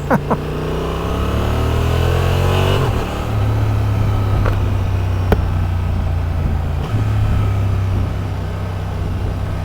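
A 2023 Honda Transalp XL750 motorcycle engine revs and idles close by, a steady loud mechanical drone with a rattling edge and a few sharp blips along the way.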